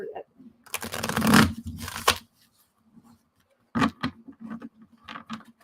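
A deck of cards is shuffled with two bursts of riffling and cascading flicks near the microphone, followed after a short pause by more card handling and softer talk.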